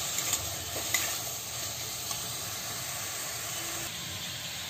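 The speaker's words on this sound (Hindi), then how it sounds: "प्याज और टमाटर सॉफ्ट होने तक इसे हम सेकेंगे। इसे हाई फ्लेम में बीच बीच में चलाते हुए सेक लें।" Onions and tomatoes fry over a high flame for a paneer roll filling, giving a steady soft sizzle with scattered scraping taps as they are stirred now and then; no one speaks.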